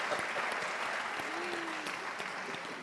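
An audience applauds at a presidential press conference, a steady dense clapping that carries evenly through the whole moment, close and moderately loud with no talk.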